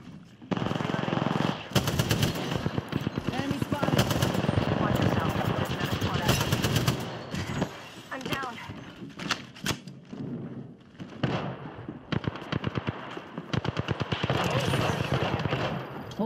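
Rapid automatic gunfire from Apex Legends, loud and near, bursts rattling almost continuously with brief gaps, mixed with game effects and voice callouts.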